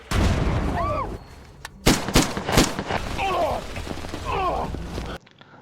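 Gunfire in a film gunfight scene from Mercenaries (2011), a string of loud, sharp shots and blasts close together, with shouting voices over dramatic noise.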